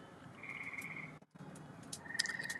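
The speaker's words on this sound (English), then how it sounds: "can you hear those frogs?" Frogs croak outdoors in a steady chorus of repeated calls, with brief trills rising above the low background and a short gap midway, fairly faint and with no talking.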